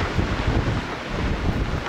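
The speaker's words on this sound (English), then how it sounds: "That's another 50-mile-an-hour wind gust." Strong blizzard wind buffeting a microphone outdoors in Derry, New Hampshire, a continuous low rumbling roar with pulsing gusts throughout, loud and close.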